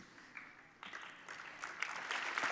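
An audience claps at a school environmental event, scattered at first and then swelling into steady, fuller applause with some cheering.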